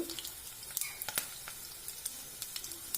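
Sesame seeds and garlic fry in hot oil in a pan, giving a quiet, steady sizzle broken by small scattered pops and crackles.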